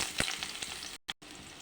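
Chopped onion fries in a wok with a bright, crackling sizzle and a few sharp spits, briefly cut off twice before the hiss resumes.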